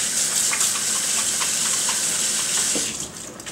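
Hands are washed under a running kitchen tap between layering onions and anchovies for a Swedish potato casserole, a steady close splashing gush of water that tapers off at the end.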